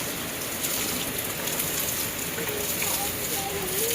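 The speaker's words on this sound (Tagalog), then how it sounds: "Yes, it's raining." Steady rain falls in a constant dense hiss, with water running off a house roof, under light background sounds outdoors.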